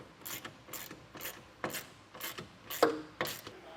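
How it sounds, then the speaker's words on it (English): A wrench ratchets on a nut and bolt on a tonneau cover mount for a 2019 GMC Sierra truck bed, about nine sharp, rhythmic clicking pulls in a row, close and moderately loud, with no talking. "go back through and tighten both that nut and bolt and the lone bolt closest to the cab"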